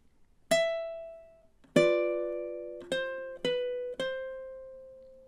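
Plucked ukulele notes from measure 8 of a song, five clear single notes and dyads ringing and decaying one after another at an unhurried pace, alone.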